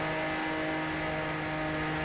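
A Porsche 911 Carrera RSR race engine from the game Project Cars, on the Nürburgring Nordschleife, holds a continuous, even drone with a steady whine and no break in loudness, without any talking.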